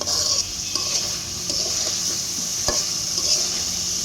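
Tangra fish cooking in a pan in a village kitchen, a steady loud sizzle and hiss of frying with occasional scrapes and stirring knocks, close up.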